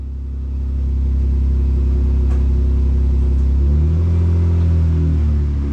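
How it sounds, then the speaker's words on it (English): An MG ZT 190 car idles with a deep, steady engine rumble close by, then the engine note rises and shifts as it pulls away and drives off, heard alone without talk. "So the last time I hear this sound, and off goes Huzzly to his new home in London"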